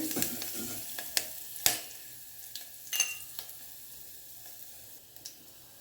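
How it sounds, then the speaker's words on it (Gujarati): Ginger-chili paste sizzles softly in ghee in a pan while a spoon stirs it, with scattered sharp clinks and scrapes over a low, steady fry. "આદુ મરચાંની પેસ્ટ ઉમેરીશું એને સાતરશું ઘીમાં સરસ સાતરવાનું છે"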